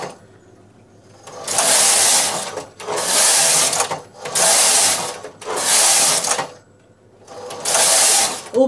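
A domestic knitting machine's carriage sliding across the needle bed: five loud, rasping whooshes of about a second each, separated by short pauses, close and clear, with no voices.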